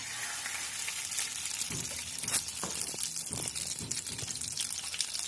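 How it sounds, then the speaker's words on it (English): Four tablespoons of butter heat in a pan, giving a continuous bubbling sizzle with crackling pops and occasional spatters, close and moderately loud with no voices. "Heat 4 tablespoons butter in the pan."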